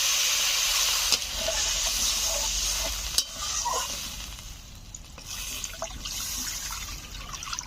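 Water poured into a hot pan of egg frying in spice masala for dim kosha, a loud steaming hiss that gradually settles into softer bubbling and sizzling, close and without talk.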